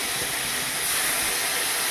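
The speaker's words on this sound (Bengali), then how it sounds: "তেল গরম হয়ে গেছে, বেটে রাখা পোস্ত, সর্ষে আর কাঁচা লঙ্কা এর মধ্যে দিয়ে দিলাম।" A ground paste of poppy seed, mustard and green chili hits hot oil with a loud, steady hiss that sizzles without a break, close up and alone.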